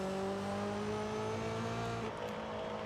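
A supercharged Honda S2000 engine runs at high revs in a steady, sustained tone throughout, with a clear whine over the exhaust drone and no talking.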